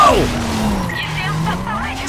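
A Nissan Skyline in the NFS Carbon video game skids, a sliding tire squeal sweeping down at the start, then a steady engine drone under continuous game sound.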